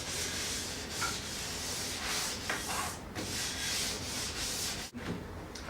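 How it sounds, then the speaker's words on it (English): Household scrubbing brush buffing loose wax shavings off the base of a ski, with a soft, continuous rhythmic rubbing and brushing close by that pauses briefly near the end. "Just kind of buff the bottom of that to try and get any of the loose wax shavings off of there."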